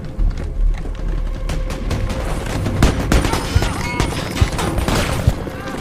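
Gunfire in a war scene, with rapid loud bursts and booming shots, close and dense, over a busy battle background across the whole stretch.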